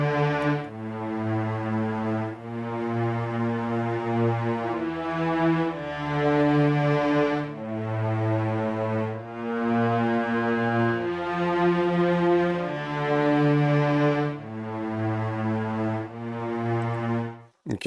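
A strings track in Magix Music Maker plays sustained, layered chords that swell and change every second or two, full and even in loudness, with no voices.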